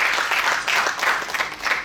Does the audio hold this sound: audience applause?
yes